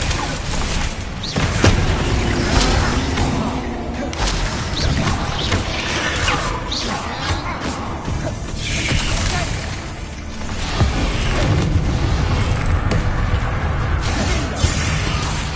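Bombarda and Confringo spell explosions in the Hogwarts Legacy video game, a dense run of booms, crashes and whooshing blasts that follow one another closely, loud and continuous with game effects layered over them.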